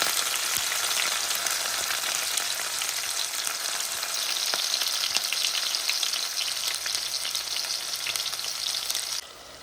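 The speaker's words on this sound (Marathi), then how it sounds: "तर चला, तेल गरम झालंय, कांदा टाकून" Onion and curry leaves fry in hot oil for an Indian home recipe, giving a loud, steady, close sizzle that runs unbroken throughout with no voices.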